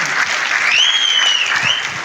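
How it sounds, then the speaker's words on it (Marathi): Loud, sustained applause from an audience at a film event in Sangli, dense clapping throughout with a faint tonal whistle or cheer rising above it midway. "एकदा जोरदार टाळ्या होऊन जाऊ देत"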